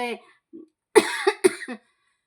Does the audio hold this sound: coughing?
yes